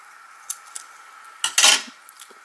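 Paper card for a Paper Pumpkin greeting card being cut in half, heard as a few faint clicks followed by a short, brighter burst of crisp slicing or tearing, close and quiet with no talk.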